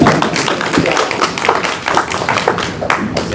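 Audience applause for Senator Sheldon Whitehouse at a University of Rhode Island climate event, a dense, loud patter of many hands clapping continuously and close by, with scattered sharper claps throughout.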